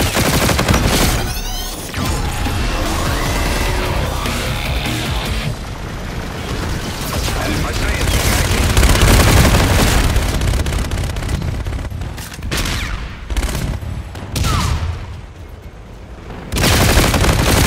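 An aircraft strafing run in the sci-fi shooter Call of Duty: Infinite Warfare: loud, continuous rapid cannon fire mixed with booming impacts and explosions, dense and roaring for the whole stretch.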